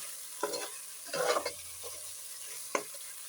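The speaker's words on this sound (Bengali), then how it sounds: "মাংস আমি ভালো করে কষিয়ে নেব একটু সময় নিয়ে" Chicken meat is stir-fried with spices in a pan, with several scraping stirs and brief bursts of sizzle over a quiet background. The sound is close and fairly soft.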